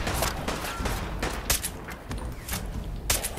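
Gunfire in the video game Fallout 4: sharp bursts of shots in quick, uneven volleys, loud and close, over continuous game background noise.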